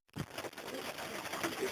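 A checker pigeon hen coos in a racing pigeon loft, a soft low call near the start followed by continuous rustling and dense, noisy background sound.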